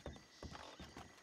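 Horse in a Red Dead roleplay game, hooves clip-clopping in a quick, even rhythm of about three steps, faint and brief.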